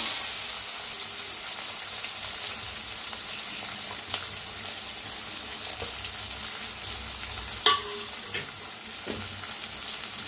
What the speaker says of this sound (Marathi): तेल चांगलं गरम झालंय। अर्धा चमचा मोहरी, अर्धा चमचा जिरं, थोडं हिंग, बारीक कापून घेतलेला 1 कांदा